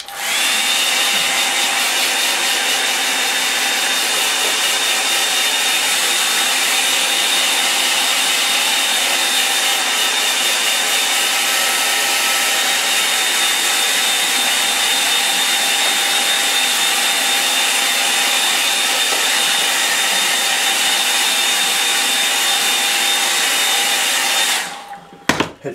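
A hair dryer blows steadily and loudly for about twenty-five seconds, drying a watercolour painting, a constant close whoosh with a faint whine, cutting off abruptly at the end.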